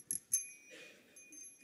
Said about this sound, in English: we're going to ding a bell like this